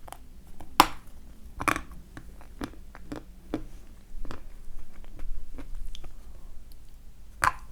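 Crisp bites and crunchy chewing of Turkestan assorted candy up close, a few sharp cracks spaced out among steady smaller crunches, with no talking.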